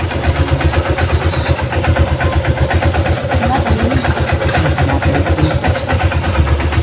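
A single-cylinder motorcycle engine runs close by with a loud, steady, rapid putter; voices talk over it.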